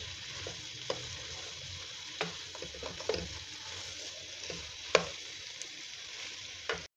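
Potatoes and cauliflower frying for aloo gobi, a Pakistani-style dish, give a steady close sizzle with occasional sharp spatula scrapes and stirring clatters, no talking.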